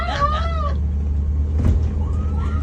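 Ambulance siren wailing near and loud for a moment, with a steady low rumble of traffic or engine underneath and no talking.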